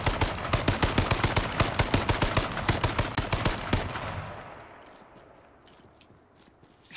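Rapid bursts of automatic gunfire crack in a fast, even rhythm in H1Z1: King of the Kill, loud and close, then cut off and leave a fading tail of faint distant shots.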